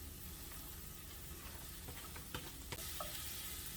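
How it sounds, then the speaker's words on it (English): Yucca flowers being stirred and cooked in a pan, giving a steady close sizzle with occasional scraping clicks from the utensil moving the petals around. "Now we'll just move it around in the pan, keep it moving so that everything cooks nice and evenly"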